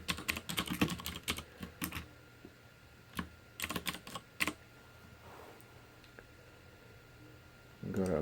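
Quick bursts of typing on a computer keyboard as a project name is entered in Visual Studio 2015, clustered clicks then pauses, close and fairly quiet, with someone speaking between them.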